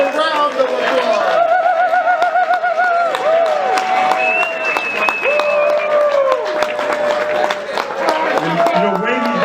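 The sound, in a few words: audience applause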